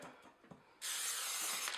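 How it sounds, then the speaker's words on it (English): Cooking spray coats wax paper laid in a cake pan. After a few faint taps, one steady, close hissing spray runs for about a second. "Lay down the wax paper, spray it again,"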